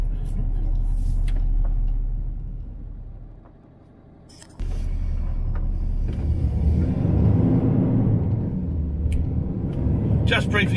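A truck engine idling and rumbling at a truck stop at Junction 9, low steady drone that dips briefly then returns, with someone talking over it and a short hiss near the end.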